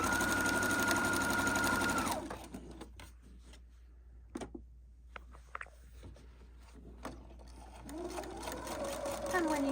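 A sewing machine stitches a canvas tote bag seam through several layers, running steadily and loud for about two seconds, then stopping for quiet handling sounds before starting again near the end.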